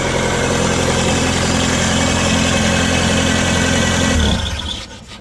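A Bobcat T-590 skid steer engine idles loud and close with a steady low rumble, then shuts down and winds off near the end.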